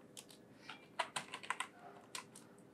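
Typing on a computer keyboard, a short burst of quick, close clicks with a few sharper keystrokes in the middle, clear and fairly quiet over a faint steady hum.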